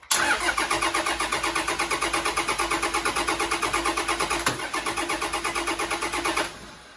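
Close and loud, a car engine cranks over in a fast, even rhythm of starter pulses for about six seconds after a shot of brake cleaner, without catching, then winds down abruptly.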